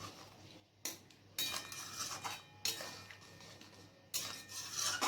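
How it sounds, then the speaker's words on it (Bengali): A spoon scrapes and clatters around a pan while fish egg curry is mixed with panch phoron powder. It comes in several separate bursts of close metallic rubbing, with brief quiet gaps between strokes. "আবার ভালো করে মিক্স করে নিচ্ছি।"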